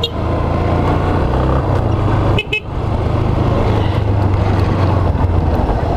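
A loud, steady motorcycle engine drones close by while riding through mud on a rural road, with a short break in the middle before the throttle picks up again.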